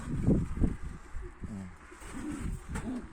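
Homing pigeons coo in a loft, with several soft, low, throaty coos repeated near and fairly loud. Someone talks quietly in between.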